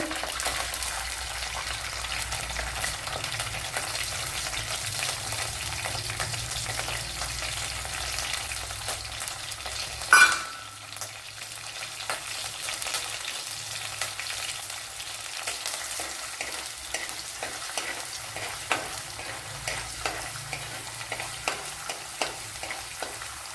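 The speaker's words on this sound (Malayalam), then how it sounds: "അതൊന്ന് മൂത്ത് വരട്ടെ ഇനി കടുക് ഇട്ട് കൊടുക്കുക" Mustard seeds and small garlic cloves fry in hot oil for a Kottayam-style fish curry, making a steady close crackling sizzle with scattered pops. A sharp louder clatter comes midway, and no one talks.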